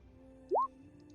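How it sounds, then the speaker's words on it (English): A single water drop plinks once with a rising, bell-like plop against a quiet, faintly humming background, likely a drip somewhere in a dark dungeon. "you can hear like the drippings of water"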